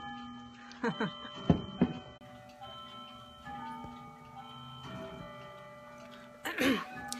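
Clocks tick in a clock shop, steady mechanical ticking threaded under a woman's speech, with a few louder sharp chimes and clinks standing out now and then.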